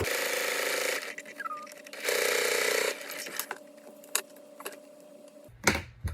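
A sewing machine stitches a small fabric micro bag keychain, running in steady whirring bursts separated by pauses, clicks and handling knocks.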